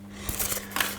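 Scissors cut through craft material for a model building base, making a few quick, close snips and crisp scraping cuts in one short burst.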